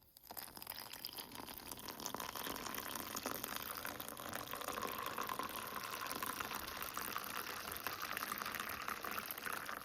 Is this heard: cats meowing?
no